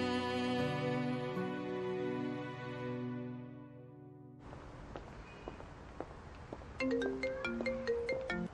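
A mobile phone ringtone plays alone as a clear, close melodic ringing for several seconds, then the call goes unanswered while scattered clicks and rustling movement follow and a brighter tonal pattern returns near the end.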